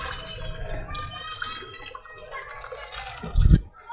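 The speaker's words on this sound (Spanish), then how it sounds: "echando aquí un poquito de agua va a limpiar todo el depósito de líquido refrigerante" Water poured into the coolant reservoir of a Pulsar NS 200 motorcycle, trickling and dripping close by, with a short, louder gurgling splash near the end.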